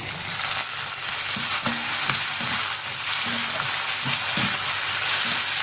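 Onion and chopped tomato sizzle steadily in a hot pan for anchovy thokku, with occasional scrapes and knocks of a spoon stirring the mix, close up and continuous.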